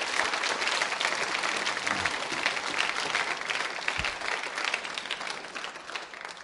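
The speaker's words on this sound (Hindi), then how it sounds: "तालियां सम्मान में बजाइए ऐसे व्यक्तित्व के लिए आप" A school quiz show audience claps in sustained, even applause, a dense crackle of many hands that stays level throughout before easing slightly at the close.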